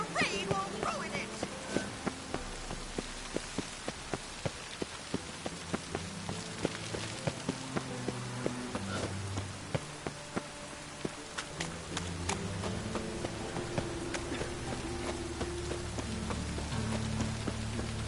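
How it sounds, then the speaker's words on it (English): Rain falling in the video game The Witcher 3: Wild Hunt, a steady patter with scattered sharp drop ticks over low game ambience and occasional hoof-like knocks. "The rain will ruin it."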